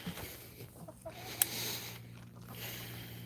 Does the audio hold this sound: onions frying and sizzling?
no